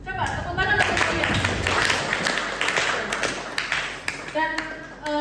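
A small audience of about thirty at a writing-structure workshop forum claps together, a dense steady patter of hands that holds for several seconds and thins toward the end.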